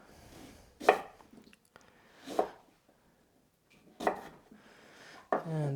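A knife chops vegetable pieces into quarters on a cutting board, four crisp separate cuts spaced about a second or more apart, close and fairly quiet, with near silence between them.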